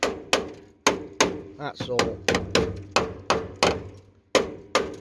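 Hammer blows on a metal plate during welding and fabrication on a British Leyland Austin Princess car: a dozen loud, sharp, close strikes in an uneven rhythm, with a brief scraping passage midway and a short spoken remark.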